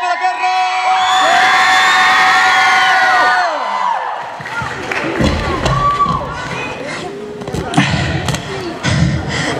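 A concert crowd in a Haapavesi sports hall cheers and shouts loudly and continuously, then the roar breaks into scattered whoops, claps and thuds across the large reverberant hall.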